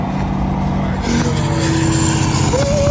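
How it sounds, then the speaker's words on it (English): A diesel truck engine revs loudly and up close, a steady heavy roar that climbs in pitch partway through and keeps pulling strongly to the end. "Diesel sounds crazy."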